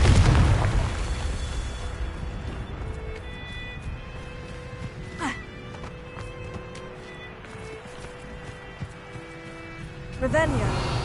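Confringo fire spell from Hogwarts Legacy bursting in a couple of sharp blasts, one midway and another near the end, over a steady game backdrop of music and ambience.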